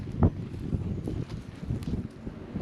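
Strong wind buffets the microphone outdoors on open land being cleared for a garden, a steady low rumble with irregular gusts and no talking.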